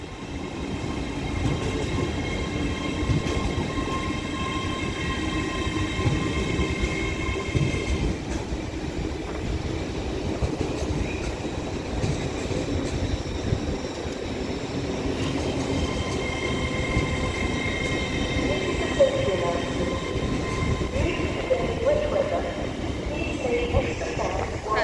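Transpennine Express train 802214 departing Liverpool Lime Street station, a steady rumbling rail drone with faint wheel squeal and tonal hum, continuous and fairly loud throughout.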